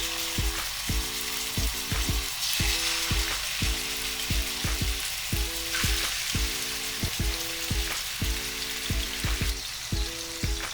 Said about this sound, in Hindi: ऑयल गर्म हो चुका है। अभी मैं इसमें चिकन डालने लगी हूँ